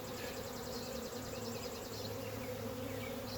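Dense, steady buzzing of many honey bees in a hive, a continuous close hum with no voices.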